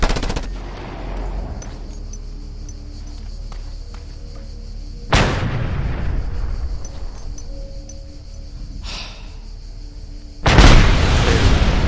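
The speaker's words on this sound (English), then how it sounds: "I can blow up these" Explosions from blowing things up in the video game Just Cause 2: three loud booming blasts at intervals, each a sharp broadband burst with rumbling decay, the last the loudest, over a low background of game ambience.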